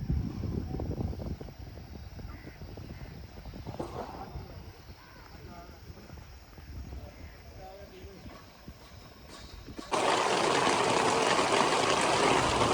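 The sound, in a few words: heavy rain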